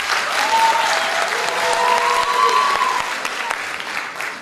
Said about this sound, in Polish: Gratulujemy! Wielkie brawa!